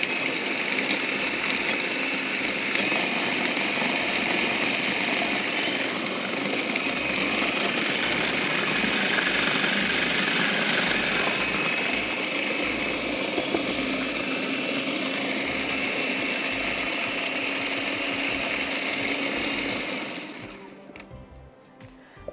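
An electric grinder whirs steadily for about twenty seconds as it blends red chilies and other pesto ingredients. The motor drone is loud and close with a steady buzzing texture, then it spins down and stops.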